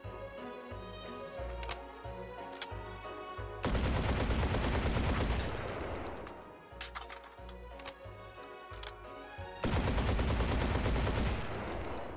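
Shotgun slugs fired in a VR shooting game, loud blasts arriving in two dense bursts with clicking and mechanical handling sounds between them, no voices.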